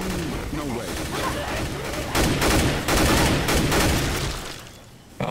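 Sustained close gunfire in Left 4 Dead 2, a continuous dense volley of shots with heavier bursts toward the end, mixed with shouting and voices throughout.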